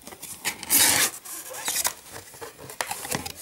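Zipper on a Glambag cosmetics bag being pulled open: a few quick, close rasping zips with soft rustling in between, fairly quiet and with no talking.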